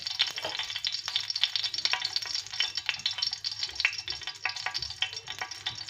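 Cooking oil heating in a frying pan, a dense, continuous crackling sizzle with rapid pops and spits close by, alone with no voices.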